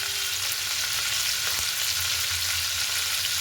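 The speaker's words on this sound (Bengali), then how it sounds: "এরপরে ফুলকপিগুলোকে আমি খুব ভালো করে ভেজে নিচ্ছি।" Cauliflower florets frying in a pan for a Bengali curry give off a steady, close, loud hissing sizzle that continues without pause and has no talk over it.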